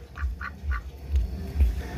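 Egg-laying ducks eating a feed of rice, paddy and maize flour give three quick quacks in a row close by, followed by low, muffled knocking and shuffling as they feed.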